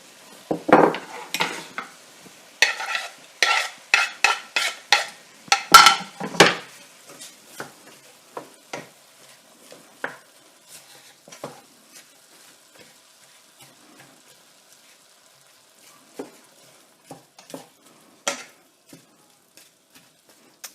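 Onions go into a pan for spaghetti bolognese and are stirred, giving a burst of close metal-on-pan clatter and utensil scraping that thins out into sparse, quieter clinks and taps.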